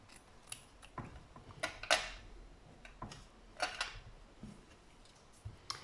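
Scissors snip a square out of small fabric offcuts, with a series of crisp, close cuts coming at an uneven pace and quiet handling sounds in the pauses between them.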